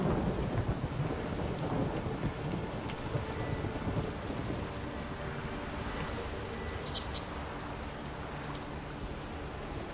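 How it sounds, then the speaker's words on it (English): A rainy thunderstorm in the game Witcher 3, with steady, heavy rain and deep rolling thunder that fill the whole stretch, plus a few faint high chirps and clicks scattered through it. "The storm, damn it！"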